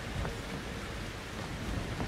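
Heavy rain in the video game Outlast 2 pours down steadily in a constant hiss, with a low rumbling undertone like distant thunder.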